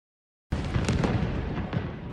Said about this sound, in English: Powerful explosions in Khan Yunis as Israeli warplanes fill the morning skies.